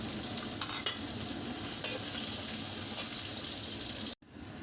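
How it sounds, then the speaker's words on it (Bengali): Dal with ginger-garlic paste, tomato and spices stir-fried in a pan, giving a continuous close sizzle with occasional scraping stirs before a sudden brief cutoff near the end, with no talking. "ডালটা এখন ভালোভাবে কষাবো"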